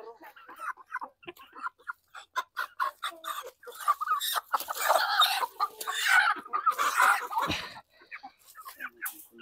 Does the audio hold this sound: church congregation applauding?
no